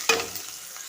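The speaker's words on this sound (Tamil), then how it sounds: "வெங்காயம் நல்லா வதங்கிக்கிறோம்." Onions sautéing with salt in a pan, a sudden loud sizzle as they are stirred, then a steady soft frying hiss that fades slightly.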